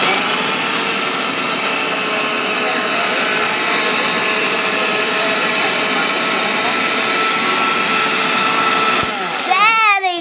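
A kitchen mixer grinder runs loud and steady with a dense motor whine, then cuts off near the end as the pitch sweeps down.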